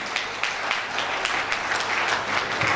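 An audience claps for a speaker being introduced at an ONAA opening event, a dense, steady round of applause from many hands, fairly close and sustained.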